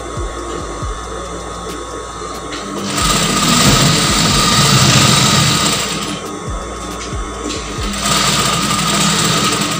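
A sewing machine stitches a blouse seam in a loud, steady, close-up mechanical whir with a rapid needle rhythm, briefly slowing and speeding up, with faint talking underneath.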